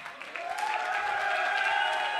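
An audience claps steadily and continuously through a stretch of a motivational speech, the applause dense and even with no voice over it.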